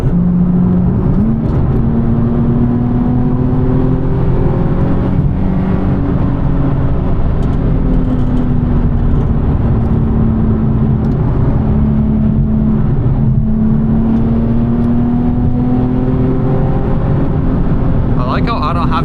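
A tuned Nissan 370Z pulling hard through the gears, a loud steady engine drone rising in pitch, heard from inside the cabin with constant road and wind noise, one shift near the start.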